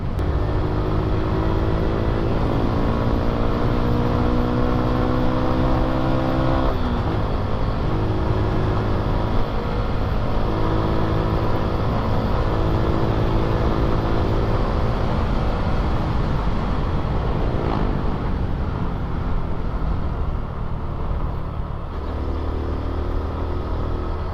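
A Honda XRM 125 fuel-injected motorcycle, a 125cc bike, ridden on the road, its engine droning steadily and loudly with a constant hum and wind noise and no talk.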